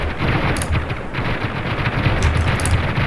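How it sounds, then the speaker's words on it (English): A-10 Warthog Gatling gun roaring in Ravenfield, a dense, continuous low rumble of rapid fire sustained for about three seconds at steady loudness, with faint crackling bursts on top. "Like I was surprised when the Gatling gun could actually shoot down vehicles"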